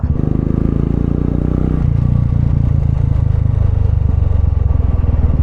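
Royal Enfield Bullet 350 motorcycle on a test drive after servicing, its engine thumping steadily and loudly close by, with a low rumble and clatter that shifts slightly in pitch as it rides.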